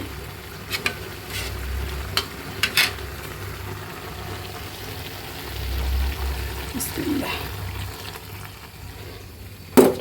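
Vegetables frying in a pan, stirred after a cornflour and water slurry is poured in, with a steady low sizzle, scattered scraping stir strokes and a louder clatter at the end, no talking.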